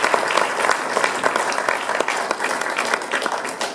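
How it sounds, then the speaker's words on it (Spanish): Applause at a symposium on humanization and change in Latin America, a steady crowd of many people clapping with distinct individual claps standing out in an even, moderately loud rhythm. "Un gran aplauso para todos ustedes"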